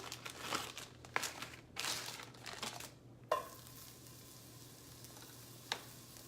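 Chopped onion cooks in a pan with soft, intermittent crackling and crinkling, a few sharper clicks and a quieter steady sizzle after a brief pause, fairly close and low in level.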